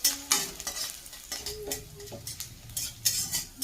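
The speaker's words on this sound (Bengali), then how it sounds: "তার মধ্যে আমি কুচানো রসুন কিন্তু অ্যাড করে দিচ্ছি। রসুনগুলোকে একটু লাল লাল করে ভেজে নেব।" Chopped garlic and black mustard seeds fry in hot oil with a soft steady sizzle, broken by repeated scraping and clinking as a metal spoon stirs the pan close up, with no one talking.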